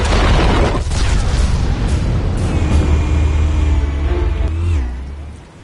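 An explosion in a Batman video game booms loudly, then a rumbling roar continues with debris and whooshing effects before it dies away at the end.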